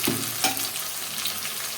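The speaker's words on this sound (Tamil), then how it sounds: "இப்போது 2 தக்காளி அடித்து வச்சுருக்கேன், அதை ஊற்றிக்கலாம். இது நல்லா பச்சை வாசனை போகிற வரைக்கும் வதங்கட்டும்." Blended tomato puree sautés in oil in a pan, giving a steady close sizzle with a soft scrape or two of stirring and no voices.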